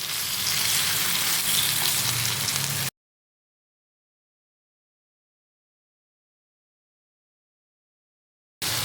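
Pieces of thengai parai fish fry in oil in a pan over a medium flame with a dense, even sizzle. After about three seconds it cuts to a long silence, then the sizzle returns briefly.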